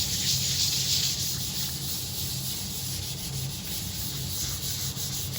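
A wooden guitar body is hand sanded to smooth rough spots, giving a steady close hiss of abrasive rubbing with soft back-and-forth strokes and no talking.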